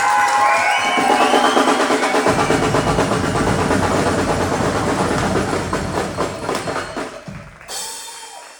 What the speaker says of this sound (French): je voudrais ce soir qu'on fasse un tonnerre d'applaudissements pour lui